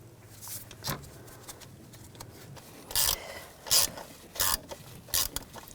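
A ratchet clicks in several short bursts while tightening a screw into a pipe on the 2.0L I4 engine of a 2004-2009 Audi A4 Quattro, each burst close and sharp against a quiet background.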